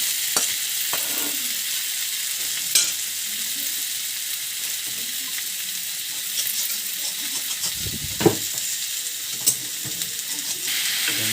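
Hendua, jhunga and makhan vegetables fry in a pan over village cooking, giving a steady close hiss and sizzle with a few sharp stirring clunks and taps.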